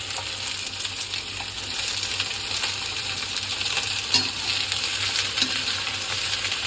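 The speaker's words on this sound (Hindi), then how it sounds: "मम्मी डाल रहे हैं पत्ता गोभी की और शिमला मिर्च की सब्जी" Cabbage and capsicum fry in a pan as part of a home-cooked vegetable dish, giving a steady broadband sizzle throughout with a few faint clinks of stirring and no talk.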